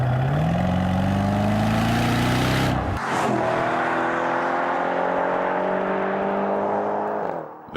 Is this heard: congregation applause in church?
no